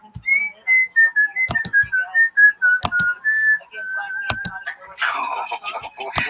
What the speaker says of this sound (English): It's a haunting whistle.